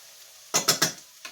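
Onions and smashed garlic cooking in a pan, heard as a quick run of three or four scraping stirs over a soft background sizzle, close and fairly loud.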